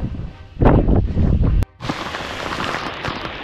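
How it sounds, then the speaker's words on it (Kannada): Heavy rain falls at Kavaledurga Fort near a stone temple pond, a loud steady rushing hiss after a couple of seconds of buffeting wind and microphone noise. "ಸಖತ್ತು ಜೋರು ಮಳೆ ಬರ್ತಾ ಇದೆ"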